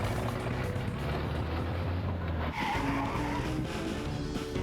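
Cars skid in the Chibi-Robo video game: a sustained engine drone and tire squeal that shifts pitch midway, then continues at moderate loudness with no voices.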